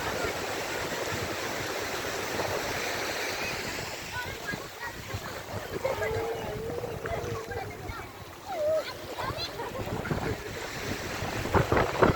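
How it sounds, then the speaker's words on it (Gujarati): Sea waves wash along the Somnath seashore at Chopati beach, a steady broad surf roar mixed with wind buffeting the microphone throughout, with a few faint voices in the background. "અને આ છે સોમનાથનો દરિયાકાંઠો"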